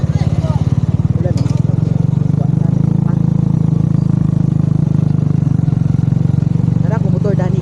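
A motorcycle engine running steadily nearby with a low, even, throbbing pulse, and a voice talking briefly over it.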